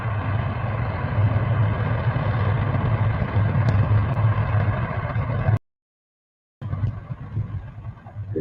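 A steady, loud engine runs with a deep, constant drone, then cuts out abruptly for about a second before the same rumble resumes.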